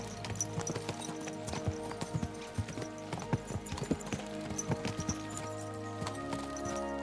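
Horse hooves clip-clop in steady rapid rhythm from a galloping mount in the medieval game Kingdom Come: Deliverance II, close and clear over a low ambient bed with no talk.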